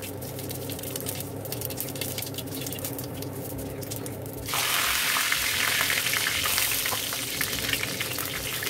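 Curry leaves splutter in hot oil for a traditional mango pickle, a steady crackling fry that jumps sharply louder and brighter midway as they hit the pan, continuous with no talk.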